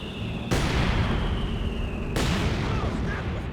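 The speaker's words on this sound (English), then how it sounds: "Good mortar pit hit there." A mortar pit shell landing in the World War II strategy game Company of Heroes 2, two heavy booming impacts about a second and a half apart over a constant battlefield rumble.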